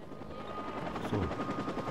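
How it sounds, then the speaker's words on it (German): Helicopter in the video game Watch Dogs: a steady, moderately faint rotor drone with a rough, continuous texture and no voices. "Beschatten wir halt mal einen Helikopter"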